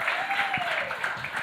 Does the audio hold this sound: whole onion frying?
no